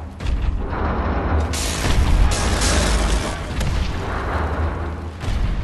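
Grenade explosion in Wolfenstein: The New Order, a loud deep boom that rumbles on for several seconds amid further bursts and crackling game noise.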